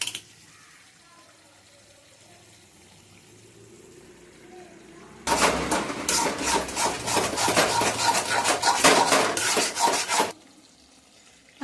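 Beaten egg goes into a pan and is stirred hard, a loud burst of rapid scraping and stirring lasting about five seconds between quiet stretches, close by.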